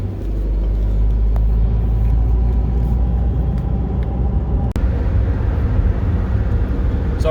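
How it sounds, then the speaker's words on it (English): Steady rumble of a car cruising down a highway, heard from inside with heavy low road and engine noise and constant tire roar, loud and unbroken throughout with no speech. "I was just driving down the highway"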